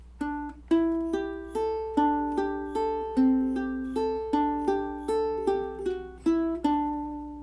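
A bright plucked ukulele picks out the verse riff of a song, notes falling in an even, steady rhythm with no voices.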